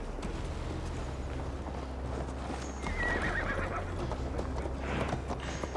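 Horses in Assassin's Creed Valhalla, steady clip-clop of hooves with whinnies and neighs over a constant low rumble, close and loud, no talk.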